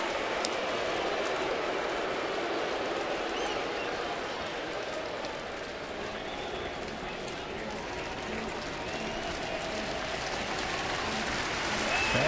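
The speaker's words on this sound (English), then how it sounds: "Fans have been in it all afternoon, and the Jays have given them something to cheer about." Baseball crowd at a Blue Jays home game in Toronto cheering and applauding in a steady, dense wash of clapping and shouts that holds throughout, swelling slightly at the end.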